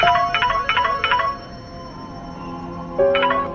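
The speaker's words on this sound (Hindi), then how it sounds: "फोन क्यों नहीं उठा रही है?" A mobile phone ringtone chimes in quick repeated bursts of bright melodic tones, loud and close, pausing briefly before ringing again, with no talking.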